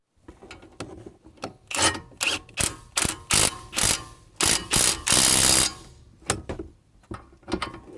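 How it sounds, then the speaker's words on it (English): A ratchet wrench tightens the bolts on a Volvo front brake caliper during a disc and pad replacement, giving bursts of rapid clicking that stop and start through the clip, close and clear with no talking. "then we'll just screw on these bolts here."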